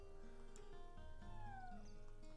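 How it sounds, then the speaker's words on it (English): A cat meows in the Chrono Cross video game, a few short mewing calls with rising and falling pitch over steady game background tones. "This is my cat."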